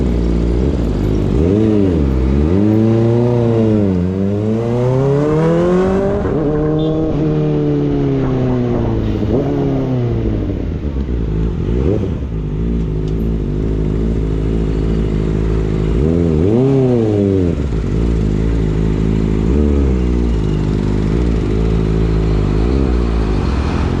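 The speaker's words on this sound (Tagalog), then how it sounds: "Ay, traffic." Road traffic with cars and motorcycles fills the scene, with engines revving and pitching up and down as vehicles pass close by, loud and continuous throughout, with several overlapping passes.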